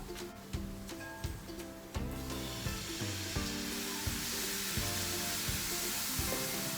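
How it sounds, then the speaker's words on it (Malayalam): Vinegar hits a hot pan for a raw dates pickle and bursts into a loud sizzle, with sharp clacks of a spoon or utensil against the pan recurring throughout. "ഇതിലേക്ക് നമ്മൾ ആ വിനീഗർ ഒഴിക്കാം."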